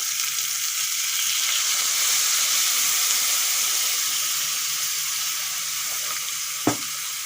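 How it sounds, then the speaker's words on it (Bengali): Vegetables with spices sizzling steadily in a hot pan for a curry, a continuous bright frying hiss after coconut milk goes in, with one small knock near the end. "মশলার সাথে সবজিগুলো একটুক্ষণ কষিয়ে নিয়েছি এখন নারকেলের দুধ দিয়ে দেবো"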